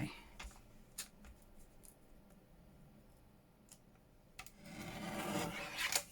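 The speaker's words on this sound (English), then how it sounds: "I wonder if my trimmer will go through tissue." A paper trimmer cuts through tissue paper with a soft scraping rasp, preceded by a few light ticks and taps, quiet and close, with a single drawn-out slicing rub toward the end.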